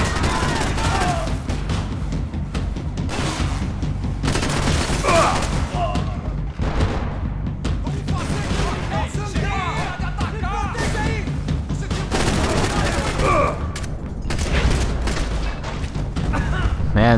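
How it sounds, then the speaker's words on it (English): Shootout in Max Payne 3 with rapid bursts of gunfire, booms and thuds, loud and nearly continuous, mixed with game voices and shouting. "Who the hell shot?"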